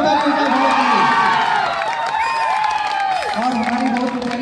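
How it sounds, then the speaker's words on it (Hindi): An outdoor event crowd cheers and claps for a dance class teacher, mixed with children's shouts and whoops, while tonal music or voices run prominently over the loud, continuous noise. "एक जोरदार ताली उनका भैया के लिए"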